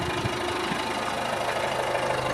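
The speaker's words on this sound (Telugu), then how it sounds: "అదే మళ్ళీ నేను హాఫ్ క్లచ్ రిలీజ్ చేశానంటే వెహికల్ మూవ్ అవుతుంది" A vehicle engine idles with a steady, close, low drone and faint rhythmic knocking as the half clutch is released to move off.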